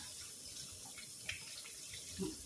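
A squash fresh from the garden is rinsed under a running tap, the water flowing in a soft, steady stream with faint splashes close by.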